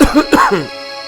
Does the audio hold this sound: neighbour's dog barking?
no